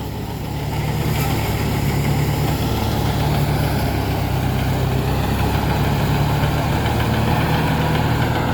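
A farm tractor idles in a rice field during threshing, its engine a loud, close, steady rumble with a constant low throb and even knocking that holds unchanged from start to finish, with nobody talking.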